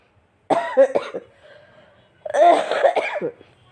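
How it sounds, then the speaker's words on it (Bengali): Two bursts of hoarse, throaty coughing from one person close by, a cluster of coughs then a pause and another fit, heard during a cold winter evening of cooking vegetable khichuri. "আবার নতুন করে কাশি শুরু হয়েছে"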